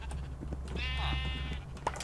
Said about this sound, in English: That's just where I keep sheep, though.